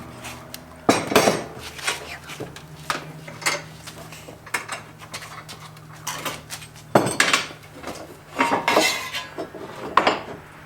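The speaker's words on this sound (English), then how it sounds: "I'm going to take it to probably the vise and hammer the rest of it in." Irregular metallic clanks and sharp hammer strikes on sheet metal held in a vise, rear inner frame section of a VW Rabbit pickup, in scattered bursts with pauses, close by, with a faint hum in places.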